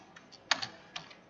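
A few quick keystrokes on a computer keyboard, light separate clicks spaced irregularly, close by and fairly quiet, with no talking.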